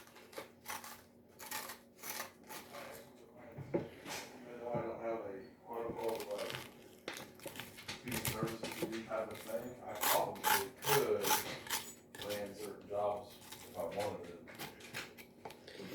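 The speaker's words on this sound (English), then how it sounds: "you got to take out all the guts just like you would a pumpkin" A fork scrapes seeds and stringy pulp out of a halved spaghetti squash, a dry rasping that repeats in uneven strokes, with a person talking over much of it.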